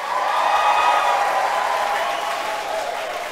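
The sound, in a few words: audience applause for a birthday shout-out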